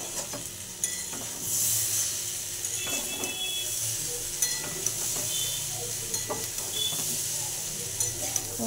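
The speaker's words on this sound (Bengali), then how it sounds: "আলুটা আমার সেদ্ধ হয়ে গিয়ে প্রায় ভাজা হয়ে এসেছে।" Diced potatoes fry in a pan over a high gas flame, a continuous sizzle broken by repeated scraping and clinks of a spatula stirring, fairly close and with no talk.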